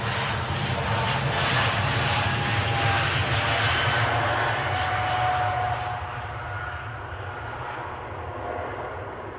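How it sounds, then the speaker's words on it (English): An ATR turboprop airliner at Edinburgh airport drones steadily in the distance, a broad continuous engine rumble that eases slightly toward the end. "Definitely hear an ATR, just can't see it"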